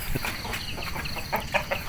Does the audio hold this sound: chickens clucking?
yes